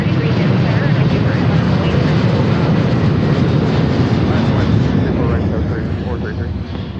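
A jet airliner roars down Seattle's runway 34 right on takeoff, a loud, steady, broadband rumble that holds throughout and begins to fade slightly toward the end as the aircraft departs.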